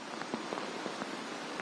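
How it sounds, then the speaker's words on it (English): Heavy rain falls across parts of Europe as a dense, steady hiss with faint patters and drops flickering through it, continuous and moderately loud. "Heavy rain pummeling parts of Europe this week, flooding streets and homes"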